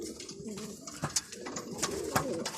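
Pigeons in a collected group coo softly and repeatedly, their low rolling calls overlapping with occasional wing flutters and light shuffling, fairly close by and with no voices.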